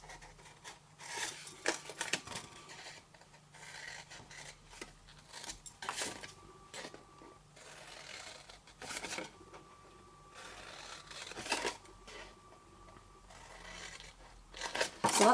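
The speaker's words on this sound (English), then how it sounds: "then cut straight up those score lines" Scissors cut straight up score lines in card stock for a hand-decorated box, giving repeated crisp snips and crunchy slicing strokes at close range with quiet pauses between cuts.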